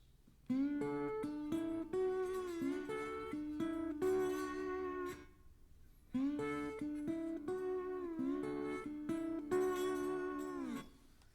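A slide guitar in open D tuning plays a sliding melodic phrase with gliding pitches and ringing notes, pausing briefly before a second similar phrase.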